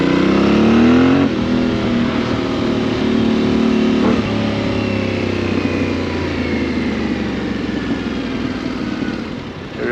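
A loud Yamaha Tenere 700 motorcycle engine drones steadily while green laning, its pitch dropping sharply twice as the gears shift down, with a rough exhaust growl throughout.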